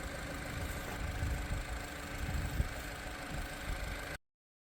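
An original Tata Sierra turbo engine idles steadily, a low, even rumble that holds for about four seconds before cutting off, with no talking.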